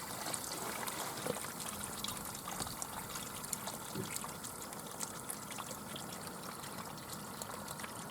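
Water drains from a pool DE filter in a faint, steady trickle and gush, a continuous low wash close by with no voices.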